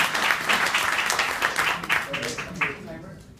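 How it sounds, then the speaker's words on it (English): Applause from a hackathon audience at a media innovation event, a dense wash of clapping that stays steady for about three seconds before thinning out and tailing off. "round of applause for a very first idea"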